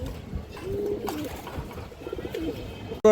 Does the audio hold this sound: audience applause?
no